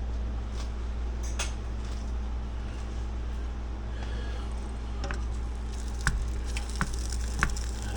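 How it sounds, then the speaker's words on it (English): Seasoned steak for a Philly cheesesteak sizzling in a hot pan, a steady close frying hiss with a few soft pops and clicks toward the end. "Basically, we're going to let that sizzle up and start cooking up."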